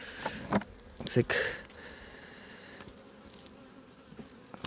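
Honeybees buzz steadily around hive frames being moved into the upper box after the honey harvest, a close, continuous hum with a few louder passes near the start and one brief spoken word.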